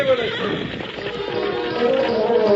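Horses neighing with clip-clopping hooves in an old Lone Ranger radio drama, a drawn-out whinny over a steady busy clatter of hooves and movement, fairly loud and close.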